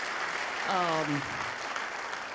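Comedy club audience applauding, a soft, distant wash of clapping that runs throughout, with a brief voice cutting in partway through.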